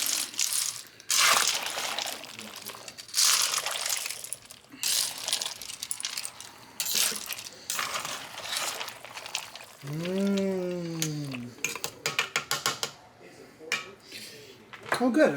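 Dry penne pasta is stirred into an Instant Pot for creamy Cajun pasta, giving repeated hard clattering and rattling bursts of pasta against the metal pot, with a brief vocal exclamation partway through.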